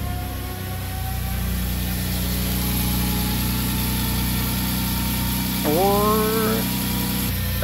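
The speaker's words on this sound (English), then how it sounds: "That's actually the PCB valve." A car engine idles steadily with a faint whine from the PCV valve riding above it, joined near the end by a brief rising whistle-like tone.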